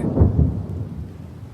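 A thunderstorm with rain rolls through as a deep, loud rumble of thunder that fades over a second and a half over a wash of rain, heard alone as a story sound effect.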